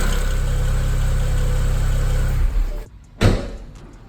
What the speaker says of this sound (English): a simple ticking noise from your injectors on the N54 engine